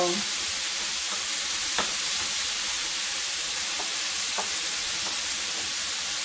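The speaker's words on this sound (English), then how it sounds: "I would say that this is probably going to take no more than 5 minutes for this shrimp to cook" Shrimp fry in a pan for chipotle shrimp tacos, producing a loud, continuous, dense sizzle with a couple of faint ticks and no pauses.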